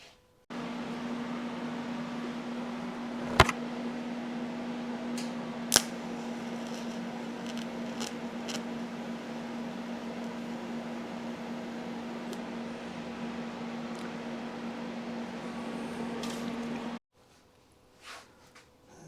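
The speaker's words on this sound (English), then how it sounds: "So we'll go ahead and weld that now with the TIG." TIG welding on a part for a 1971 Honda SL70 motorcycle: a steady, even electric hum with faint hiss that runs unbroken for about sixteen seconds, marked by a couple of sharp clicks, then stops.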